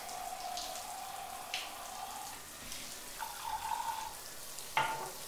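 Steady hiss of water running from a shower tap into a tub or basin, with faint splashing and occasional small knocks, a quiet continuous wash throughout.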